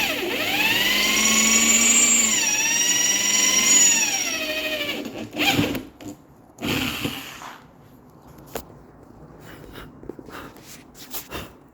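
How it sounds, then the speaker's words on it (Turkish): A whining power drill runs steadily for several seconds with rising and falling pitch, drilling holes in a 2024 Honda Forza 250 motorcycle for a bag rack, then stops, followed by clattering handling sounds and short bursts. "Bir tane daha delip delme işlemi tamamlanacak."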